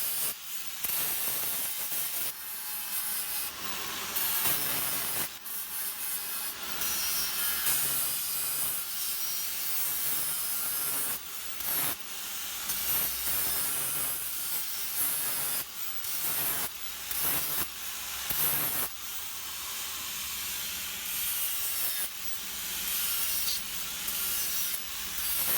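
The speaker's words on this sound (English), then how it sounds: "We don't need a ton of material on the jaw ends, so I'll grind them, clean them up a bit," Steel tong jaw ends being ground and thinned, a continuous harsh abrasive rasp that keeps cutting in and out in short bursts, loud and close with no talk.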